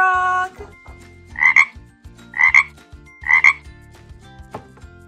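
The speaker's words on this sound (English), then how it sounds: "Let's put the frog in the green barn." A farm toy plays a frog croaking sound, three evenly spaced electronic croaks, loud and close, over a light toy melody with no talking.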